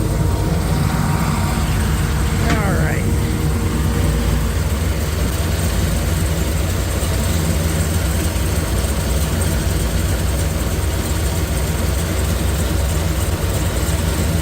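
A supercharged 1955 Chevy engine runs at a warm idle, with a steady low rumble and a constant whine, loud and unbroken for the whole stretch, with no talking.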